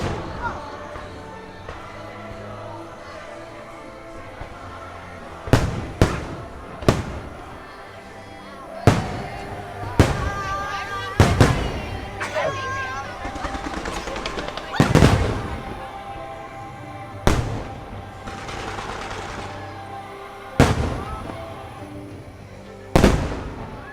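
Fireworks burst over Magic Kingdom at Disney World, a series of loud, sharp booms and crackles spaced a few seconds apart over a continuous backdrop of crowd noise, music and voices.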